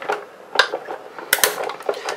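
A manual die-cutting machine cranks acrylic plates through for a card die cut, giving scattered close clicks, ratcheting ticks and plastic knocks in an uneven rhythm, with two sharper clacks near the end.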